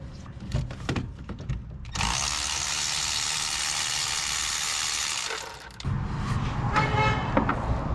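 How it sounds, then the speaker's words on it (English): A Nissan long bed work pickup sounds its horn in one sustained, loud blast lasting several seconds, set between scattered clanks and ratcheting of tools working on a wrecked Chevy Spark. "Did y'all hear that honk honk?"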